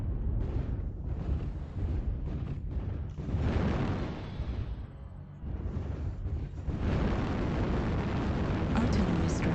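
Airstrike blasts from the mech combat game MechWarrior Online come as heavy rumbling booms and sustained roaring, loud and continuous, with wind-like noise throughout and intensifying toward the end.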